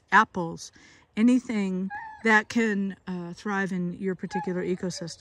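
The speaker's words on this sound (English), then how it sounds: "that's my dog you're hearing in the background" A dog whimpers faintly in the background while someone talks steadily outdoors about planting perennial trees, the thin whines mostly buried beneath his voice.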